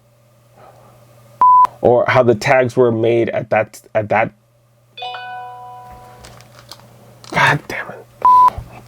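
Short electronic phone beeps, a couple of single tones and a brief run of dial-style pings, cut in among a man's speech and a frustrated outburst, over a steady low hum indoors.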